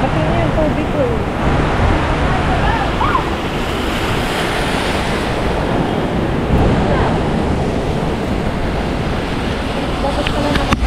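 Very heavy rain pours down in a city street in Tel Aviv with water rushing along the ground, a loud, unbroken roar close to the microphone, with occasional faint voices underneath.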